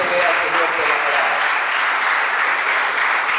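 Church congregation applauding during a sermon, a dense, steady wash of clapping that stays loud and unbroken throughout, with no talk over it.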